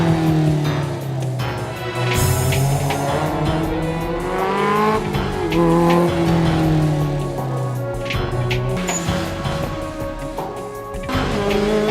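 Rally cars race along a closed country special stage at the Rallye des Hautes-Côtes near Veilly, engines loud and close with shifting revs, tire squeal and a continuous roar throughout.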